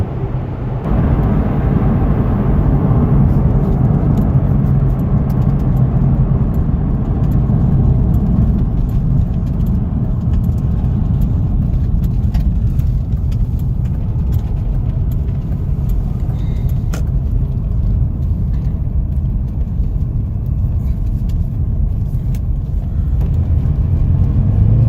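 A Corvette C6 ZR1 supercar engine pulls hard under sustained acceleration, a loud, continuous roar heard from inside the car for about 25 seconds with steady drive-by road and wind noise and no speech.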